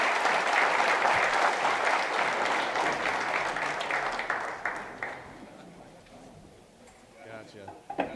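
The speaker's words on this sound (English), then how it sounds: "please help me by welcoming Christian to the stage with your thunderous round of applause" An event audience at a 2023 summit breaks into sustained applause, a dense wash of clapping that holds strongly for several seconds before thinning out and fading, with a few scattered claps and faint room sound at the end.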